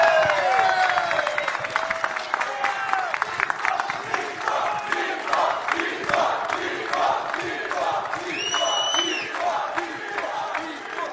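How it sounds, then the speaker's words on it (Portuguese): Applause and cheering from a hall of mayors greeting Jair Bolsonaro, dense sustained clapping with scattered whoops and shouts throughout, loud and continuous. "Por que estão aplaudindo o Bolsonaro?"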